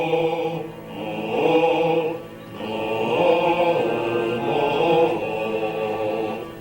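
Bass voices of a choir sing a slow, sustained theme representing a moose, with rich low harmonies swelling and easing over several phrases, loud and full without any spoken words.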